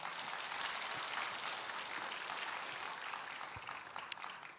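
Applause from an audience at a welcoming ceremony in Indonesia, a steady broadband wash of many hands clapping that holds evenly throughout at moderate, somewhat distant level.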